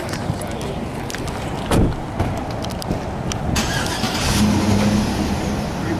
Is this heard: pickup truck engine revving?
yes